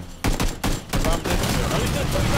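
Bursts of video game gunfire crackle through a loud, dense stretch, with sharp shots repeating over continuous combat noise and a voice faintly underneath.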